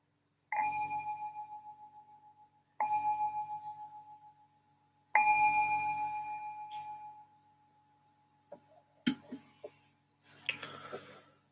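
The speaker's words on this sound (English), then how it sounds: "just ring the bell to signal the start of this meditation" A meditation bell is struck three times at about two-second intervals, each clear ringing tone decaying slowly in a quiet room, followed by faint soft knocks and rustling.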